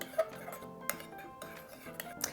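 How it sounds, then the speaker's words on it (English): Spicy pizza sauce stirred in a bowl with a utensil, for a chicken tikka pizza, giving quiet scraping and clinking taps against the bowl in an irregular rhythm, close and soft. "we're gonna stir until everything is nice and incorporated"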